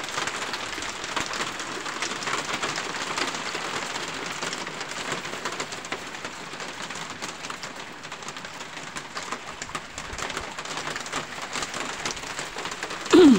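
Hail falls in New Zealand in winter with a dense, steady patter and hiss of ice pellets hitting the ground and surfaces, continuous and close, with no voices.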